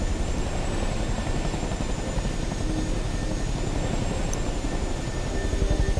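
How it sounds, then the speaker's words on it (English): A Chinook helicopter flies over the Duluth air show, its steady rotor chop and engine roar filling the air evenly and loudly without pause. "The Chinook helicopter."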